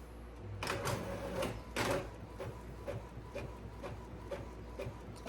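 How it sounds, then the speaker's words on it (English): A home printer at work, mechanical clacks and whirs in an irregular rhythm, a few stronger knocks early on, then lighter repeated ticks as paper feeds through, close up and fairly quiet, with no voices. "Hold on one second while I set up the printer."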